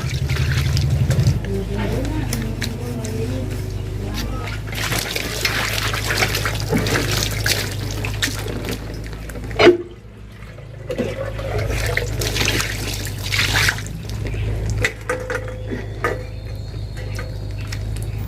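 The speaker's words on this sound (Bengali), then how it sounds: "দেখি হচ্ছে এই দুটো তিনটে বাসন কুসন আছে তো একেবারে এই হাতে মেজে নেব" Running tap water splashes and trickles as a few dishes are scrubbed by hand, with clinks and a sharp clatter midway, while someone talks over much of it.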